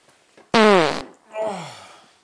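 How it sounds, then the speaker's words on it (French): A loud, raspy fart bursts out for about half a second, followed after a brief pause by a second, softer and longer one that trails off. "Oh. Vous avez pété?"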